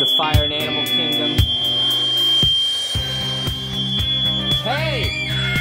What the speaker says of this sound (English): Shawn, is this your first fire drill? There's a fire in Animal Kingdom.